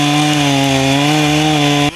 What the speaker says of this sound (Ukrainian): найшвидше вмонтувати ланцюг на бензопилу і розкрижувати колоду так